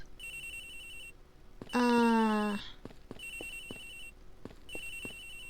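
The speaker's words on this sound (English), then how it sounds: "It would be awesome if I could hear the cell phone getting louder if I approach it" Cell phone ringing in the video game Ace Attorney Investigations, a repeating electronic ringtone in short bursts with gaps, broken once by a loud falling tonal game sound effect in the middle.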